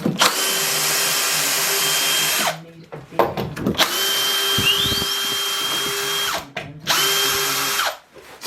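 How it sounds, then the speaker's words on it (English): A power router cuts a recess into a wooden panel to seat a shelf, its loud high whine running in three long bursts separated by brief pauses and spin-downs. "router just to cut the recess in the panel to fit the shelf in"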